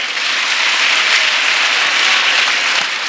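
An audience at a church retreat for unmarried people breaks into sustained applause, a loud, even roar of many clapping hands that holds steady from start to finish with no pauses.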